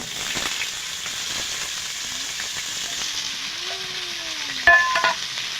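Potatoes fry in oil in a kadai with a steady, close sizzle and crackle, ending in a brief louder burst of spattering near the end.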